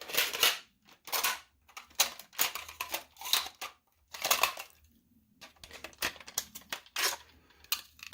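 A Nerf Shell Strike toy shotgun blaster gives a string of sharp plastic clicks and clacks from racking and firing, close and clear, with short quiet gaps between the bursts.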